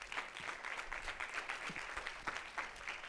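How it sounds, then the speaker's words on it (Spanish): A conference audience gives a fairly faint, steady round of clapping as a speaker is welcomed onto the stage. The claps come as a dense scatter of sharp hits, with no talk. "Bienvenido y un aplauso para Juan."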